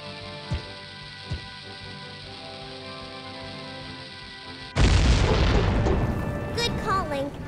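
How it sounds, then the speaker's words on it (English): A bomb flower blasts apart a boulder in Ocarina of Time, a sudden loud burst that erupts after a few faint thumps and then rumbles on with scattering debris, without any talk. "That flower bomb took out that boulder with no problem."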